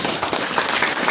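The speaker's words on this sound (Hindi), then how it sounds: "तालियां" A quick burst of audience applause at a hari katha session in a Shimla gurukulam, with dense, steady clapping from many hands throughout.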